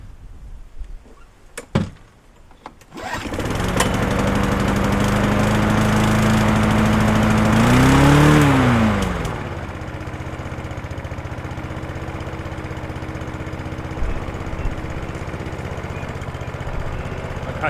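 A Honda HRB423 lawn mower with a carburettor problem starts up after a few clunks and runs steadily at low revs, rising briefly in a short rev before settling back to an even idle drone.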